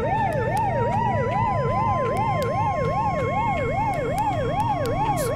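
A rising-and-falling siren wails steadily and loudly in the Siren Head 3 video game, its regular oscillating cycles sweeping continuously throughout over a low rumbling background, with no talking.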